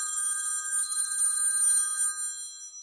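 A telephone bell rings steadily and fairly loud for the whole stretch, a bright sustained trill that fades slightly near the end, with no talking over it.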